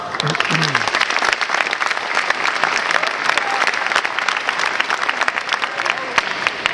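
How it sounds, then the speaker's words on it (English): A graduation audience breaks into loud, dense applause, many hands clapping at once in a continuous close roar, with a brief voice at the very start. "please give them a warm round of applause"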